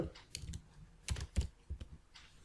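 Keys clack on a computer keyboard as a dictionary name is typed into Python code, a short irregular burst of close, crisp taps with small pauses between strokes.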